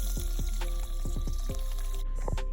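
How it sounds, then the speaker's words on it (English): Clean water pours and drips out of a Honda CBR 250R motorcycle radiator during a coolant flush, with a steady liquid splash running throughout and repeated dripping plops close by. "Clean fluid coming out, nothing but water"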